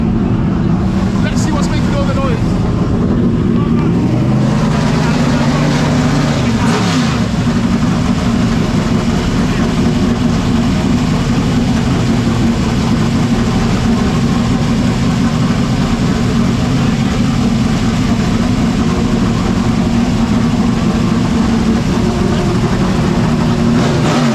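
A 1988 Chevrolet Monte Carlo at the Goodwood Festival of Speed, its engine giving a loud, continuous low rumble close by for the whole stretch, with a voice briefly heard over it.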